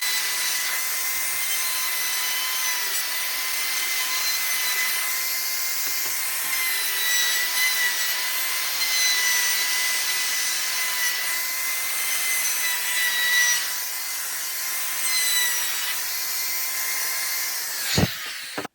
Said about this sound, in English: I rounded over the edges of the board with a bearing-guided 1/8 inch radius